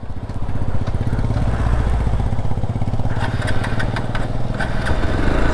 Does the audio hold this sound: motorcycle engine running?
yes